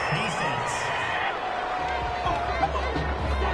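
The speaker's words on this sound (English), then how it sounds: "Some boos coming down right now from this home crowd after that call" A home crowd in a PS4 American football video game sends up a steady, noisy wave of jeers and murmur after a pass interference call, with commentators talking over it.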